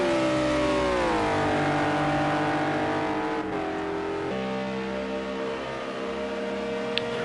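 Onboard a Renault RS01 GT3 race car, the engine roars loud and close, pitch climbing and dropping through gear shifts in a steady continuous drone.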